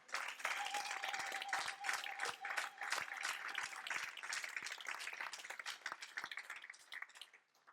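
Congregation applauding and cheering during a French-language church worship service, a dense steady wash of clapping with scattered sharper claps, loud and sustained before tapering off at the end.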